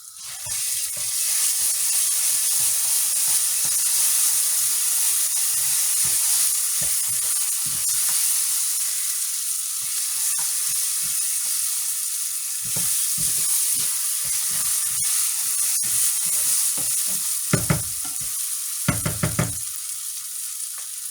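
A spoonful of pepper paste sizzles in a frying pan over toasted orzo, a steady loud hiss broken by the scrape of a stirring spoon, with sharper sputters near the end.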